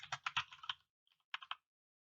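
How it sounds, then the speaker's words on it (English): Bursts of computer keyboard typing while entering numbers and variable names in code, a quick run of close keystrokes, a pause, then a few more taps, with no talking. "Just typing in these numbers, or typing in the name of the variable"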